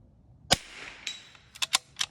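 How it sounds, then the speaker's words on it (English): A rimfire rifle fires one sharp shot on a precision range at 96 yards, followed by a few fainter clicks and knocks. "So I'm going to go ahead and shoot at 96 yards"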